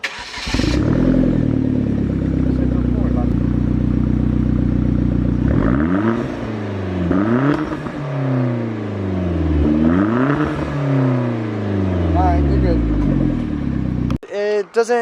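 A Nissan 240SX engine idles with a deep, loud exhaust drone, then revs up several times in rising and falling sweeps before cutting off.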